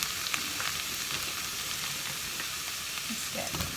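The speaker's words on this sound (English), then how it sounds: "I'm popping my celeriac in. Just giving that a mix round." Diced celeriac sautéing in oil and butter in a pan, a steady close sizzle and crackle with light scraping as it is stirred round, no talking.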